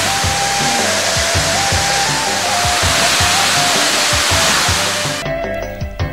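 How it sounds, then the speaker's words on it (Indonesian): A natural valley waterfall in Payakumbuh roars as a steady, dense rush of water, loud and constant, with faint background music underneath. "Keindahan lembah disempurnakan dengan adanya air terjun alami dengan airnya yang sangat"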